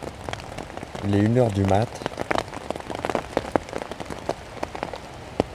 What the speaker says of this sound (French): Et il pleut un truc de fou.